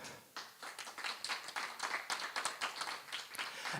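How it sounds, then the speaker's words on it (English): A conference audience claps after a presentation, a dense patter of many hands that swells and holds steadily for several seconds. "a big applause."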